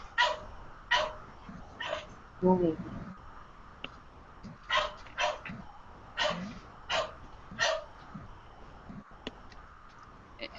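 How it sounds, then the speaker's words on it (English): Dog barking indoors, a series of about nine sharp barks spaced a second or so apart with breathy pauses between, moderately near and alone without talk. "he's barking and I can't stop him."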